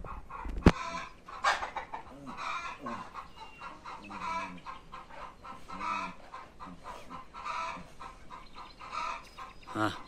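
Chickens clucking close by in a farmyard, a busy run of repeated clucks and squawks with a sharp sudden squawk near the start.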